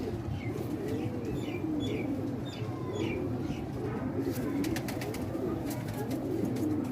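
Domestic Jethiye pigeons, a black-beaked breed kept as a fancy, coo steadily and close by in low, rolling repeated phrases, with a few faint higher chirps above the cooing.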